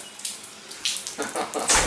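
Water leaks from a household shower down into the garage below, with soft splashing and spattering bursts that grow a little louder toward the end.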